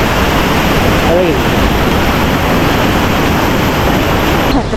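Bomburu Ella waterfall in Sri Lanka, a loud, unbroken roar of rushing water close by that fills the whole stretch without pause.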